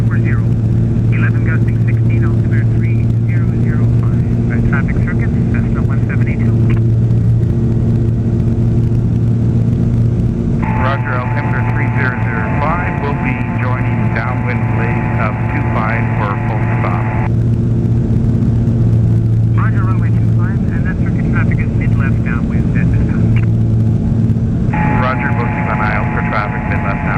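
Cessna light aircraft in flight, a steady droning engine hum with strong low tones filling the cabin throughout, while radio chatter and cockpit talk come and go over it.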